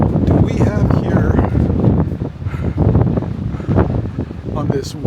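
Strong wind gusts roar across the microphone beside the rough Atlantic coast in the Algarve, Portugal, loud and continuous, with possible surf underneath.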